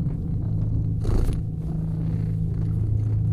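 A cat in a video game purrs as a low, steady rumble, with a short louder burst partway through.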